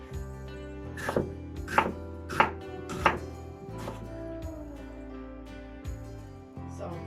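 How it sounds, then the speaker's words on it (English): A knife chops onion and garlic into fine pieces on a board, with four crisp, evenly spaced thuds followed by a couple of lighter cuts, close up over a low steady hum and no speech. "Here I cut my onion and my garlics in fine small pieces."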